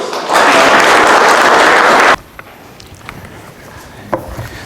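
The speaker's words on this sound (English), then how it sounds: "give him a round of applause" An audience applauds after an interview, a loud burst of clapping that starts abruptly, holds for about two seconds, then cuts off, leaving quiet room noise with a few faint knocks.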